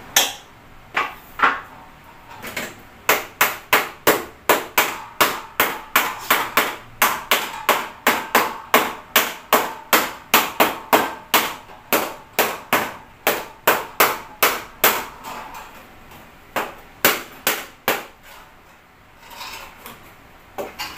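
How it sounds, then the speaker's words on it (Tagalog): A small flat screwdriver taps steadily against a bayong bag weave to pack the strands tight, producing a long run of sharp, evenly spaced knocks, loud and close. "kailangan ko siyang pukpukin ng ganito para masiksik"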